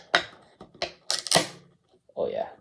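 A beer can is cracked open with a sharp pop and a brief hiss, followed by a few close clicks and handling sounds, with a voice speaking at the end.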